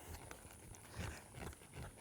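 A horse's hooves step slowly during a lateral movement training exercise, with faint irregular thuds over a steady background hiss, distant and quiet.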